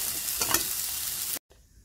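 Onions are roasted in a pan while being stirred, giving a close, continuous sizzle with a few scraping strokes. The sound cuts off abruptly near the end, leaving only a faint quiet tail.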